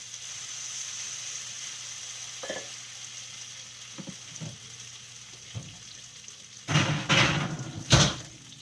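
Potatoes cook in a hot pan with a steady soft sizzle, broken by a few light taps and then louder scraping clatters of a utensil near the end.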